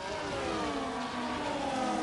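Race cars in a sim racing game at Portugal scream steadily as they accelerate toward turn 5, a continuous, fairly close engine whine with no voices over it.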